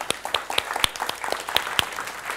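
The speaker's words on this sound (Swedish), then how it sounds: "En applåd." Brief round of audience applause at a Lund panel discussion on future research facilities, with sharp individual claps standing out over a steady patter, fairly close and without talk.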